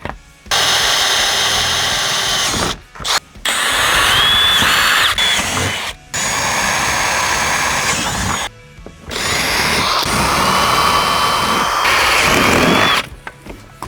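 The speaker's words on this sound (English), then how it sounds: "drill some holes" Power drill boring holes in the front bumper of a 2024 Subaru WRX GT during an aero kit install, loud whirring bursts in several runs separated by short pauses.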